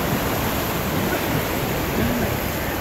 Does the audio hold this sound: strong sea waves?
yes